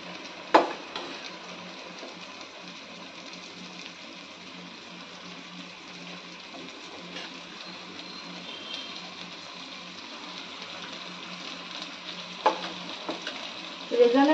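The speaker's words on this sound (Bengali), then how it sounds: "এবার মাংসটা কষবে এতে।" Marinated mutton for rezala frying and being stirred in a pan, a steady close sizzle throughout with occasional louder clicks and scrapes of the stirring utensil near the start and end, no talking.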